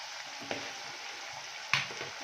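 Ginger garlic paste fries in a pan for mutton kheema balls, giving a soft, steady sizzle with a couple of faint stirring clicks.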